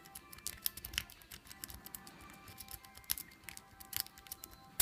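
An L-rake lock pick scrapes and clicks inside a Mitsutomo padlock, producing quiet, irregular metallic ticks and light rattles up close, with no voices.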